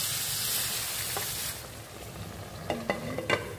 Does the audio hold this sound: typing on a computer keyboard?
no